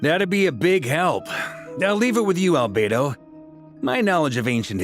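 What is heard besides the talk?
None of the usual background noises is heard.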